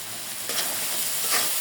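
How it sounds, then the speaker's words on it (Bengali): Potatoes with turmeric, salt and spices sizzle steadily in hot oil in a pan, with a scrape of stirring partway through. "তেলের সাথে মশলাটা ভালোভাবে একটু নাড়াচাড়া করে এই যে আলুটা সুন্দরভাবে ভাজে নিচ্ছি"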